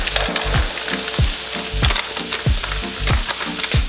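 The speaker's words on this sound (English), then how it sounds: "Give these a stir." Peppers, onions, sweet corn and black beans sizzle steadily in a pan while a spoon scrapes and stirs them in a regular rhythm, producing repeated close, loud scraping strokes over the hiss.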